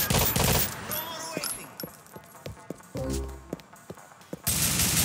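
Gunfire in the video game GTA: The Ballad of Gay Tony, loud bursts of automatic fire at the start and end with sharp single shots and footsteps in between, one low heavy burst in the middle.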